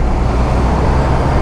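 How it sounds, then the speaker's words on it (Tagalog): Heavy road traffic in the Philippines, heard from a ride through congested afternoon streets, as a loud, continuous roar of cars, buses and trucks that fills the whole moment without a break. "Sobrang traffic nito."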